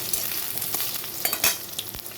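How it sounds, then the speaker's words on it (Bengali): Potato and eggplant pieces frying in a pan, a close, steady sizzle broken by sharp scraping stir strokes and clatter over two seconds, with no voices. "আলু আর বেগুনটা একটু ভালো করে ভেজে নেব এখানে আলু বেগুনটা ভাজা হয়ে গেছে"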